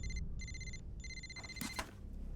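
A telephone rings in repeated electronic trill bursts, three rings in quick succession, clear and fairly close, followed by a brief clatter.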